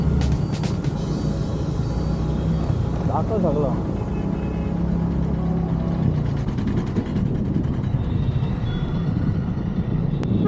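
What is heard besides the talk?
traffic jam on Virar flyover bridge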